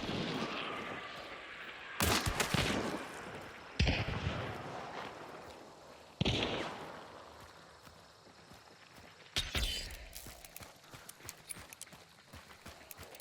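Gunfire in the video game Hunt: Showdown comes as four heavy, separate booming shots spread a couple of seconds apart, each trailing off in a long echoing decay.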